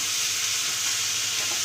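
Cooked moth beans stirred into a pan of sizzling onion, garlic and spice masala for misal, giving a steady, close frying hiss with soft scraping throughout.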